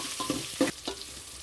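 Onions sauté in a pan for soya chunk curry, a soft sizzle broken by three quick scraping stirs.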